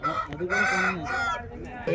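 A fighting rooster crows close by at the Nallapadu rooster market near Vijayawada, a loud, drawn-out cock-a-doodle-doo followed by clucking from fowl around it.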